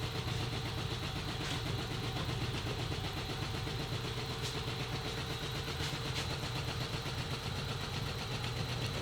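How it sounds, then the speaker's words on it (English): An antique air compressor runs steadily and loudly in a workshop, a continuous mechanical drone with a constant hum and faint pulsing throughout, alone without talk. "Sorry it's a little loud, my antique air compressor is running here"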